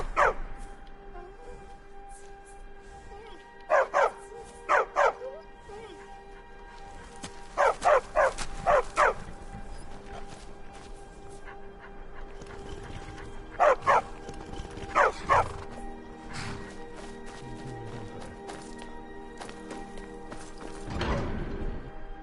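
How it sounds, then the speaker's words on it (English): A war dog in Skyrim barks in short clusters of two or three sharp, close barks, separated by pauses over a quiet ambient hum, with a final louder bark near the end. "A war dog is good company and good protection."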